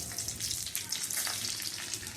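Dried red chillies frying in hot oil give off a close, steady, crackling sizzle with small popping bursts, fairly quiet and heard with no talking.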